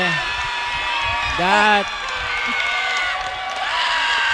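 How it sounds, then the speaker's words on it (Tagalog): A volleyball crowd at an inter-town tournament cheers after a spike, a steady roar of voices with one brief shouted whoop standing out, while a commentator talks over it. "The crowd loves that spike coming from Silvestre."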